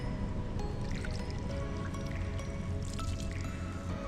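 Cloth being soaked in a stream of flowing clear water on a roadside stop during a solo cycling trip in Srikakulam, Andhra Pradesh, with steady close splashing, dripping and squishing.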